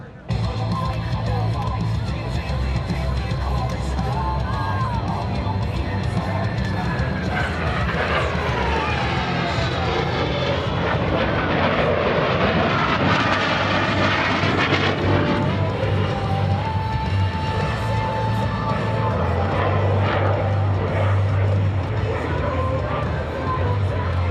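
US Navy Blue Angels jets flying opposing horizontal rolls at a 2017 Millville Wheels and Wings airshow, a sustained jet roar rising and sweeping past under crowd noise and an announcer's voice.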